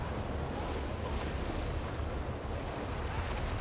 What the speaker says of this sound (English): Just peppering the whole place with Nebels.